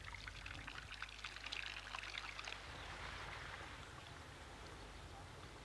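Water pours steadily at a village water point on a Breton island, a continuous, fairly faint rushing stream.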